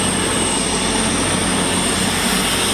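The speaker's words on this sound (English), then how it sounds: "it is in fact two Avanti West Coast voyagers heading off to London Euston" Two Avanti West Coast Voyager diesel trains pass through Stafford station on the West Coast Main Line toward London Euston, a loud, close, steady engine roar with no talk.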